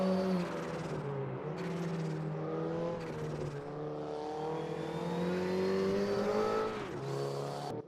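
Several Porsche 944 Cup race cars in Raceroom Racing lapping the Circuit de Charade, engines droning steadily with rising and falling pitch as they shift gears, loud and continuous with no voices.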